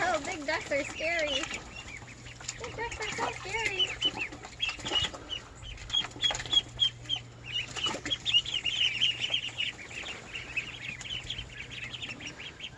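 Two-week-old ducklings take their first bath, fluttering and splashing their small wings in bursts amid frantic peeping, with a person talking quietly in the background.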